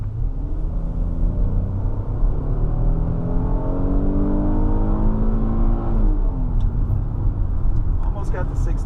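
2019 Kia Sorento EX AWD with a V6 accelerating toward 60 mph, a steady cabin engine drone rising in pitch through a gear, then dropping and climbing again over road rumble.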